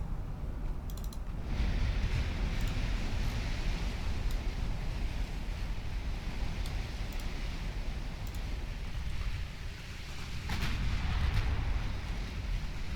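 Naval 6-inch guns boom again and again in the Ultimate Admiral Dreadnoughts game, a steady roar of distant gunfire and rumbling blasts with sharp cracks now and then, and no talk.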